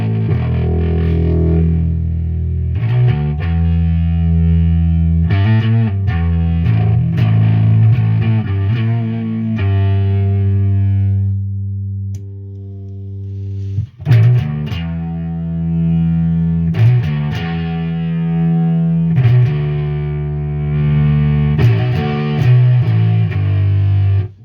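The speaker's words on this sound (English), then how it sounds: "I'll just give you an idea of what it sounds like when the amp is clipping" A Mountainking Behemoth II bass amp clipping under overdrive, a gritty, distorted bass playing sustained notes and quick runs with short pauses, steady and loud with no voices.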